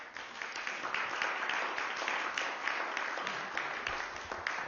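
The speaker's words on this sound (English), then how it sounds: "Thank you so much for the applause for Anthony Teasdale." Steady applause from the audience at a European Parliament roundtable, a dense, even wash of many hands clapping throughout, heard at moderate distance with no talking over it.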